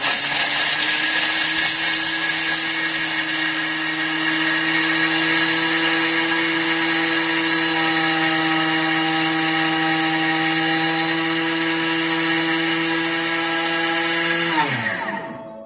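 A Thermomix spinning at speed 10 grinds a block of Parmesan cheese, a loud, steady high-pitched motor whine held for about fifteen seconds before it winds down and stops.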